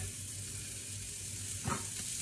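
Onions sizzle in a frying pan with a steady soft hiss and a brief stirring scrape near the end, all fairly quiet and close by.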